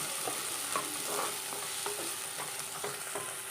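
Chopped onion and ginger stirred in a pan of hot coconut oil: a steady close sizzle with rhythmic scraping strokes roughly every half second, no voices.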